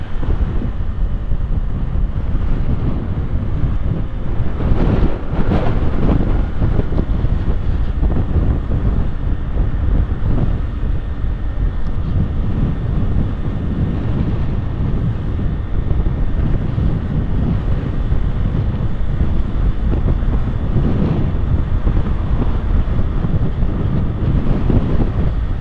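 Strong wind buffets the microphone during a motorcycle ride through Tokyo, a loud, continuous low roar with rougher gusts swelling and easing over the whole stretch, and no talking.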